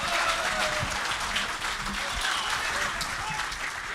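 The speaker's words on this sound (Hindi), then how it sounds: "एक बार ज़ोरदार उनके लिए आप तालियां बजा दीजिए।" Audience at a mushaira, an Urdu poetry gathering, breaks into loud continuous applause, a thick steady wash of many hands clapping that holds for several seconds.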